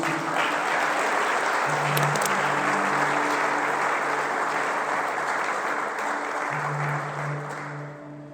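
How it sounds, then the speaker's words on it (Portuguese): A congregation applauding during an Easter church service, a sustained wash of dense clapping with a low droning tone underneath, fading slightly at the end. "Se você crê, aplauda forte ao nosso Deus."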